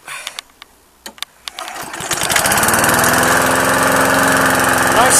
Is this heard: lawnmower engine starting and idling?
yes